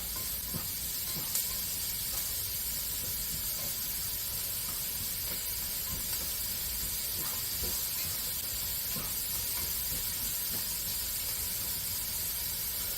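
Onions caramelizing in a pan for pork chops give off a steady, unbroken sizzling hiss that stays close and even, with faint crackles popping through now and then and no talk over it.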